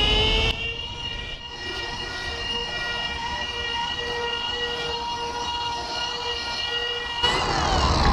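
A polisher runs at its minimum speed of 800 RPM, buffing white oxidation off a surface. It gives a steady, close motor whine that holds for the whole stretch and swells slightly louder near the end.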